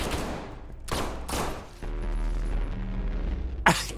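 Gunfire aimed at monitor screens behind bulletproof glass in the game Abiotic Factor, heard as a few short bursts of shots with quieter stretches between them.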